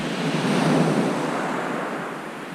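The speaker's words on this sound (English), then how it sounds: "Not the waves that big coming in." Sea waves break and wash onto Brighton Marina beach in East Sussex, a steady loud surf roar with wind buffeting the microphone, swelling early then easing slightly.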